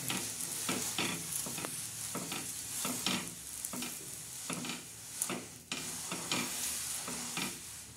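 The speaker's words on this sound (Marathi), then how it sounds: "असे गरम तव्यावर पाव गरम करून घ्यायचे" Pav bread heats on a hot griddle previously used for an omelette, giving a quiet continuous sizzle broken by regular scraping and pressing strokes, close and without talk.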